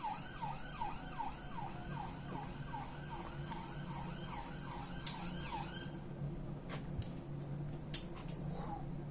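Ambulance siren passing outside, a wailing, sweeping tone that repeats in quick cycles for about five seconds, then breaks off, leaving faint traffic noise and a couple of brief sharp clicks.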